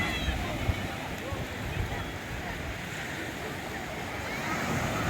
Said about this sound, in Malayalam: കടലിൽ നിന്നുള്ള തിരകൾ